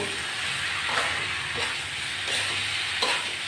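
Potatoes and pointed gourd fry with ground ginger, cumin and chili paste in a pan, a loud, steady sizzle close by with soft stirring scrapes and no talk.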